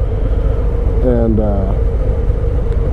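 A 2019 Harley-Davidson FXDR motorcycle rides along on a hot day with a loud, steady engine drone and wind rumble, while someone briefly speaks over it.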